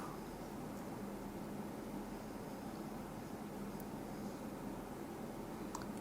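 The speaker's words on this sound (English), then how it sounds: "Lots of static." Steady, broadband hiss of static from a homemade AM-FM radio receiver, loud and unbroken throughout, with faint crackles but no clear voice coming through.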